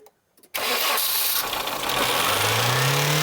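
A barn-find 1990s Nissan with British Touring Car history bursts into life and its engine revs up with a stuck throttle, holding a loud, steady high rev that rises in pitch toward the end, close up.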